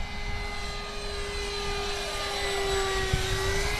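A Durafly De Havilland DH-100 Vampire RC jet plane flies overhead, its steady electric ducted-fan whine holding a constant high tone throughout, fairly loud and continuous with slight swelling near the end.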